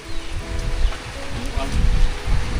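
Heavy rain pours steadily in a broad, constant hiss, with low voices and faint background sounds mixed underneath.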